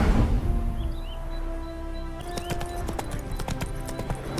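A horse's hooves clip-clop in The Witcher 3: Hearts of Stone, a quick, close run of hard hoof strikes that begins about halfway through over a low ambient background.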